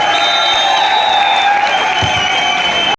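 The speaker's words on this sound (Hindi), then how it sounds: "एक बार ताली बजा दे मनोज बाली के लिए" Steady, loud applause and crowd noise at a village kabaddi match between RCC Bhopal and Indore, honouring raider Manoj Bali after a super raid, sustained for a few seconds before cutting off abruptly.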